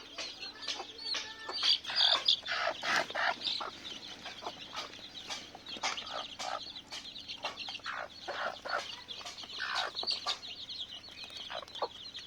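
Two hens with their thirteen chicks clucking close by, a busy run of short repeated clucks and chirps continuing throughout with no talking.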